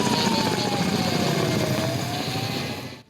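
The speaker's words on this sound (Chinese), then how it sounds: "直升机自火场的顶头飞过，协助拍森林野火。" A helicopter flying over a forest wildfire, a loud continuous rotor and engine drone with a slowly shifting pitch that fades away at the end.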